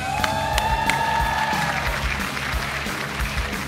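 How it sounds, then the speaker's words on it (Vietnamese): A live audience at a music show claps and cheers for six singers, with whoops and a bright tonal flourish at the start, lively and close. "Vỗ tay nồng nhiệt cho 6 ca sĩ xuất hiện buổi tối ngày hôm nay"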